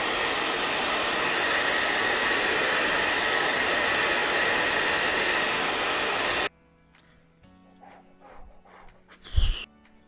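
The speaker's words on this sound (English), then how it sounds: "So actually, to help me dry this, I'm going to use my hairdryer." Hair dryer on its cool setting blows a steady, loud broadband rush for about six seconds drying a makeup eyebrow cover, then cuts off abruptly, leaving quiet handling clicks and a brief thump.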